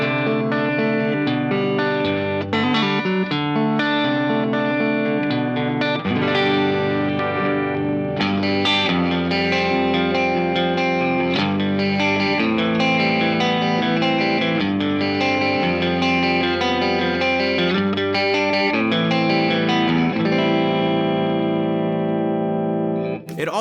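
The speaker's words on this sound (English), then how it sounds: "the Compressor Mini smooths everything out and just makes everything sound nice and present." Electric guitar run through a Keeley Compressor Mini pedal, playing sustained chords and melodic notes with an even, smoothed level, clean blend and lingering sustain, close and continuous with no talk.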